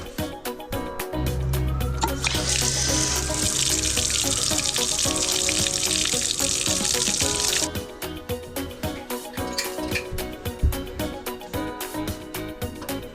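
Water runs steadily from a bathroom sink faucet for about six seconds, a loud continuous rush that then cuts off, leaving quieter clatter and handling noises.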